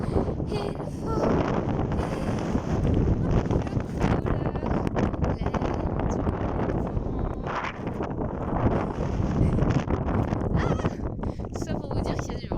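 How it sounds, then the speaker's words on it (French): Strong mountain wind buffeting the microphone at a solo bivouac, a continuous rough roaring rumble with gusty surges, loud and close throughout, with a voice speaking intermittently underneath. "ça pour vous dire qu'il y a du vent"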